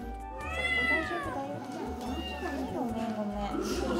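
A cat at a pet adoption event meows several times in drawn-out, rising and falling cries, close by, with people talking underneath and a low hum in the background.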